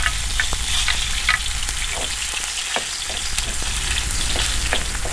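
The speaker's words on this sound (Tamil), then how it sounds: "இப்போ எண்ணெய் நல்லா சூடாகிட்டு அதில் வெட்டி வச்சிருக்கிற செத்தலை போட்டுருவோம்" Dried chillies fry in hot oil with a loud, continuous close sizzle, crackling pops scattered throughout, no voices.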